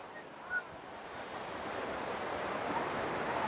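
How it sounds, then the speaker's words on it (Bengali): Sea waves on the beach at Puri, a broad continuous wash of surf that swells slightly louder, with wind buffeting the microphone and no voices. "সুন্দর ঢেউ আজকে"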